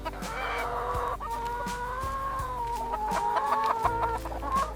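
Chickens on a poultry farm cluck and squawk close by in a steady chorus, with one sustained call rising above the flock throughout.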